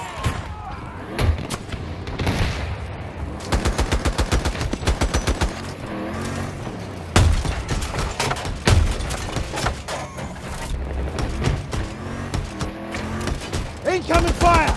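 Battlefield 2042 combat with a 105mm howitzer and heavy machine gun on an armored vehicle: rapid automatic bursts and heavy booms repeat throughout, loud and close, with spoken voice lines layered over the firing.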